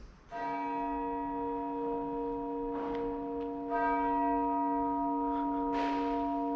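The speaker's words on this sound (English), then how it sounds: "The bell invites me." A bell tolls as a stage sound effect in a performance of Macbeth, with three resonant strikes ringing out clearly and decaying slowly between them.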